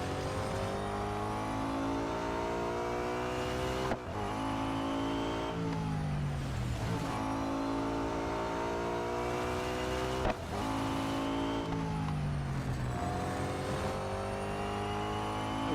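Nissan R390 GT1 race car in Real Racing 3 revs hard and continuously, its engine note climbing through repeated gear shifts with brief dips between them, loud and close throughout.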